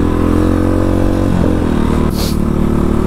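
The engine of a 2023 X PRO Titan DLX motorcycle drones loudly and close, its pitch shifting as the clutch is let up and the bike pulls away, with a brief hissing burst partway through.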